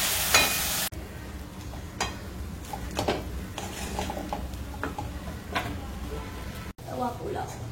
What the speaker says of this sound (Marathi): बटर आणि तेलात कांदा, टोमॅटो आणि याच्यातला पावभाजी मसाला.